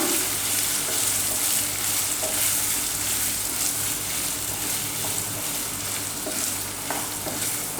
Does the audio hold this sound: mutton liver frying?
yes